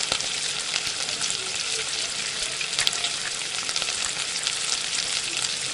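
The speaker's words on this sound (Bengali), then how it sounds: "আমরা আর একটুকুনি ভেজে নেবো, একটু উল্টে নিলাম যাতে আমরা দু পিঠগুলো ভালোভাবে ভাজা হয়।" Fish heads fry in a pan, giving a steady, dense sizzle and crackle that holds evenly throughout, fairly close and with no talk.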